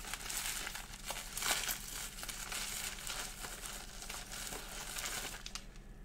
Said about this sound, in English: Just gotta get my box cutter out. Cut the plastic open.